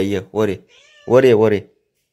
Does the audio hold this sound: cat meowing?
yes